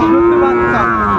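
A Sahiwal bull at a cattle market gives a loud, sustained moo close by, a single low drawn-out call held for over a second with no talk over it.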